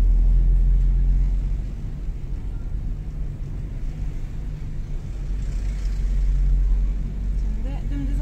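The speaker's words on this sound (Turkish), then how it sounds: "O gazın sesi sürekli gelsin yokuştayken." A learner's car labours uphill in heavy traffic during a private driving lesson, its engine holding a steady low rumble with the throttle kept open throughout, while an instructor talks over it.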